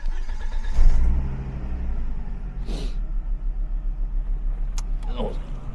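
A car engine at working temperature cranks, catches and settles into a steady low idle, close and loud, with a couple of brief clicks and faint background noise afterward.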